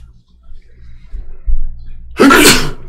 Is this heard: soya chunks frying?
no